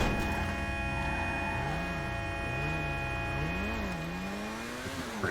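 Race cars speeding and colliding in the GTA Online video game, two British cars caught in a crash, a steady engine drone with rising and falling revs over a constant electrical hum, fairly loud throughout with no talking.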